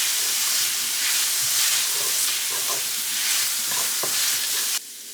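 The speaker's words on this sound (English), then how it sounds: "once our onions are a little bit translucent, we're gonna go ahead and add our tomato paste" Onions and a tablespoon of tomato paste fry in a pan for a beer pot roast, giving a loud, steady sizzle with stirring scrapes that continues for about five seconds before dropping off abruptly near the end.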